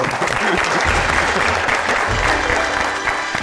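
A studio audience applauds the winners of a holiday quiz game, steady dense clapping filling the whole stretch at close range and fairly loud.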